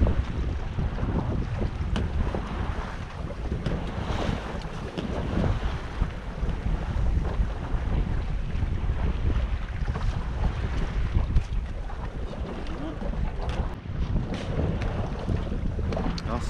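Small solo sailboat underway in strong wind off the Charente coast, with constant roaring wind buffeting the microphone and rushing water along the hull, loud and continuous throughout.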